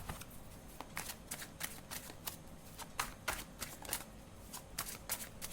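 Tarot cards are shuffled by hand in quick riffling bursts, a rapid series of crisp flicks and slaps, close and quiet, with no talking.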